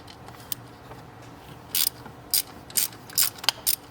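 An 8mm ratchet backing out an injector hold-down bolt on a 7.3 Powerstroke diesel engine, a few short bursts of quick clicking after a quiet start, close and crisp, with no talking.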